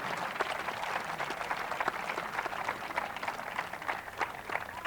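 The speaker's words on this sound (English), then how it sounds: "Can we have a big round of applause for Mr." Audience applause for an invited guest at a student interaction session, a steady wash of many hands clapping at moderate volume throughout, slightly distant, with no talk over it.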